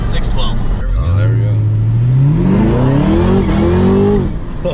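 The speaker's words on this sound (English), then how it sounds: "Burned up the tires there a little bit." A new Camaro launches hard and spins its tires, the engine note climbing steadily as it accelerates, loud and close from inside the car, with voices heard over it.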